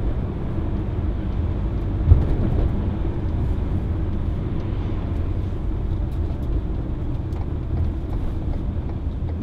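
2017 Ford Transit 2.2 TDCi 350 rear-wheel-drive curtainsider van driving at town speed, heard from inside the cab as a steady low engine and road rumble with no talk.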